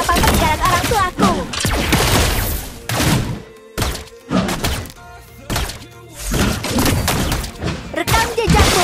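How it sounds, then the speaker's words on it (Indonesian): Layla fires golden bullets in Mobile Legends, loud rapid bursts of punchy game gunshots and thunks in quick succession, with a brief lull before the volleys resume. "Tembakkan peluru emas!"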